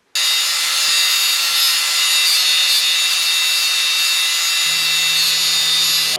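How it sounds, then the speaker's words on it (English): A wheel grinder cleans and bevels the end of a metal porch hand rail at an Alaska cabin, giving a loud, steady, close-up abrasive hiss and rasp that holds for several seconds before cutting off. "take this over by the on the wheel grinder and clean this end up and bevel that edge"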